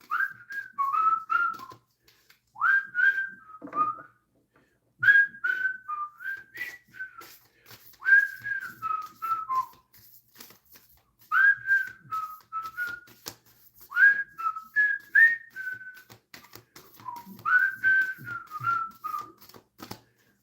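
A person whistles a tune in clear, bright phrases, repeating a short melodic pattern roughly every two to three seconds with brief pauses between, close and alone.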